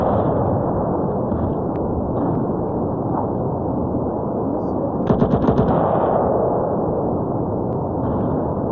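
Sustained, loud machine gun fire rattles almost continuously in a team-based shooter video game, with a sharper, faster burst of rapid shots in the middle.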